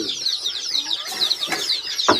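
Chickens clucking close by at a rural Lao farmyard, a busy run of short overlapping clucks and squawks with a sharper call near the end, no talk over them.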